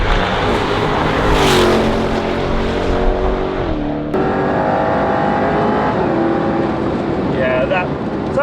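A 600PS Jaguar XE Project 8 at speed on a race track, its engine roaring loud and close with rising harmonic tones through the gears and a sharp shift break midway.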